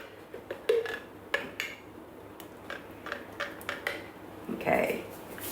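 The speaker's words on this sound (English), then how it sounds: "So I'll get a spoon and I'll give it a stir." A metal spoon clinks and scrapes against a bowl while stirring sourdough discard, a series of light irregular taps and knocks up close in a quiet kitchen.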